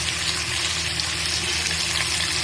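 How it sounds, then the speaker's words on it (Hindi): About a teaspoon of cumin seeds fries in hot oil with a steady, dense sizzle and crackle, close and continuous, for a chicken shahi korma. "और डालने के बाद मैंने 2 से 3 सेकंड इसको फ्राई कर लिया।"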